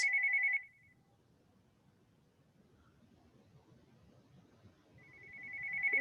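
An electronic phone ringtone trills briefly at the start, falls silent over low background rumble, then rings again, growing louder toward the end.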